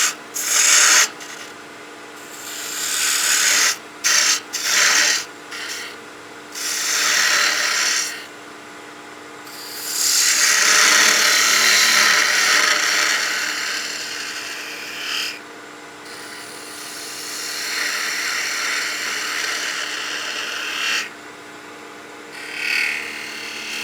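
A spindle gouge cuts an ogee on spinning wood on a lathe, giving repeated bursts of close, airy shaving hiss against a steady motor hum, with short gaps between passes.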